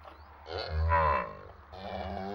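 Ankole cattle low during milking among the Bayankole on the White Nile, a long, deep, drawn-out moo swelling and fading, close and loud over a steady background hum.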